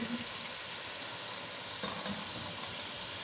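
Mutton fries in a pot for yakhni pulao as stock goes in, producing a constant close sizzle and hiss with a faint clink near the middle.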